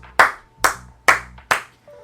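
Chris claps his hands four times in a steady, evenly spaced rhythm, each sharp, close, loud smack ringing briefly before the next, with a faint tone trailing after the last clap.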